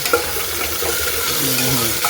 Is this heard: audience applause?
no